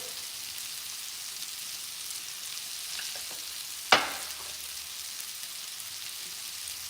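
Taco filling seasoned with chili powder, garlic and cumin sizzles steadily in a pan while being stirred, a soft continuous hiss with one sharp utensil clank near the middle, no talk.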